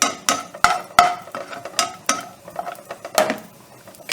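Cashews roasting in a pan, stirred with a metal utensil that knocks and scrapes against the pan in irregular clinks and taps, close and moderately loud.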